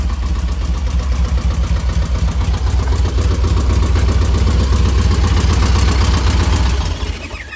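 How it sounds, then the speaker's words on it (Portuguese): An old air-cooled Volkswagen Beetle (Fusca) engine idles loud and close with a steady, even chugging pulse that fades slightly at the very end, with no talking. "O motor é redondinho, velho."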